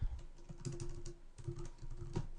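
Someone types on a computer keyboard while entering a database name, a quick run of soft, close key taps in uneven bursts, quiet and alone without speech.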